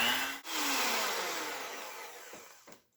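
An electric mixer whisks a cream fudge mixture, a loud, close, steady whir that cuts out briefly near the start, then runs on and slowly fades and slows before stopping.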